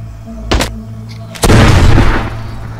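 A grenade blast in the Arizona Sunshine co-op VR game: a sharp bang, then a heavy, rumbling explosion roughly a second later that lingers over low game background noise.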